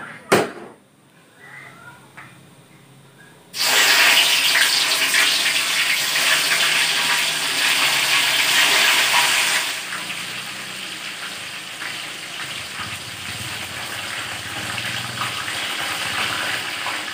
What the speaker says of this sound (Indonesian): Tuh, minyaknya sudah dimasukkan ke dalam wajan. Sekarang tuh pertama-tama mau goreng apa Mama Arul?